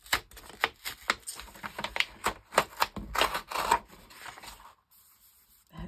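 Paper pages rip out of a book in a rapid series of sharp, close tearing bursts, followed by a short quiet pause.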